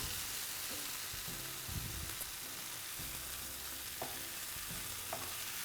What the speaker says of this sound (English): So now our squash mixture has been sauteing and it's nice and soft